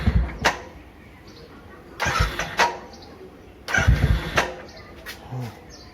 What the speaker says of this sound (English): Gave it the kickstart.